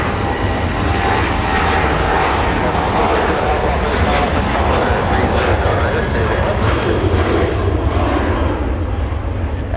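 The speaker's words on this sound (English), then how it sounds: "That A330 is definitely heading north for departure." A large jet airliner, an Airbus A330, departs Los Angeles International Airport with a loud, sustained engine roar that holds steady throughout, while a voice can be heard underneath.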